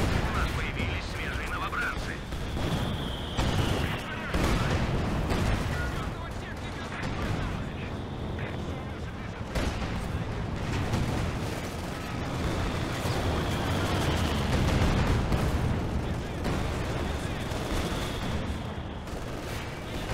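Rifle fire and artillery crash continuously in a Company of Heroes 2 battle for the Poznan citadel, with repeated sharp shots and heavy booms layered over a constant rumbling din, while someone talks intermittently underneath.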